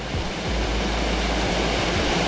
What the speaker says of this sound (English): It looks like there's a little natural waterfall in the distance, and then this waterfall here